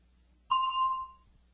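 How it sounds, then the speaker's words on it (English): A single bright bell ding sounds once in an English-language lesson, clear and close. It rings out briefly alone against near silence. "Listen for the bell, then say your answer."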